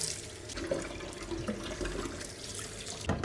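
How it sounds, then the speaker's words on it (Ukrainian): Tap water runs steadily into a kitchen sink while potatoes are rinsed by hand for frying, a continuous close splashing hiss with small bumps and a few sharper splashes near the end. "Так, мию картошечку"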